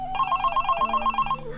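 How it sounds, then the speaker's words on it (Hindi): A telephone bell rings in a quick electronic trill, one short burst of rapid repeated pulses lasting about a second, close and clear with no talking. "फोन बज रहा है"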